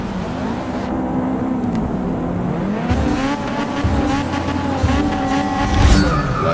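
Race cars roar and shift gears continuously in the Forza Motorsport 6 video game during a rainy career race, engines loud and up close, with tire noise and cars passing.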